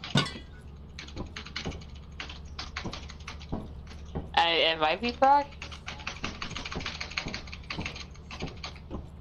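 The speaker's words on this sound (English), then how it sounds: "who's typing up a storm?" Rapid computer keyboard typing clatters steadily in dense bursts of clicks, close and clear, while a voice speaks briefly over it.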